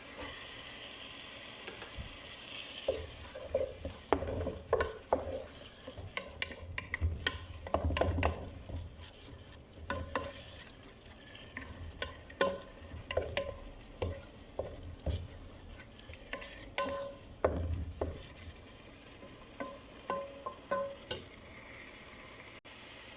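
Onions and chili fry in a pan while a spoon stirs and scrapes repeatedly, giving a steady sizzle under irregular bursts of clattering strokes throughout.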